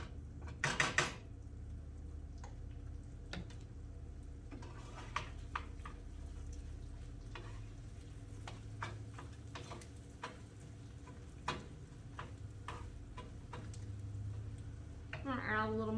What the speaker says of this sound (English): now that this is rendered down, we're going to mix in some mashed potatoes